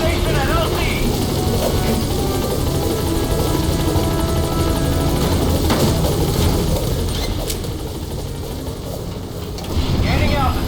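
Heavy rotor thump and turbine whine from the B-Quad support helicopter arriving at a landing zone in Metal Gear Solid V, loud and continuous throughout, with radio voice chatter over it.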